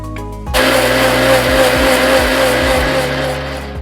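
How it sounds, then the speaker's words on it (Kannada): A kitchen mixer grinder blends ash gourd with rock salt and a little water into juice, switching on after a brief pause and then running loud and steady with a whirring, rhythmically pulsing motor whine to the end. "ಈಗ ಇದನ್ನು ಮಿಕ್ಸಿನಲ್ಲಿ ರಸ ತೆಕ್ಕೊಳ್ಳೋಣ"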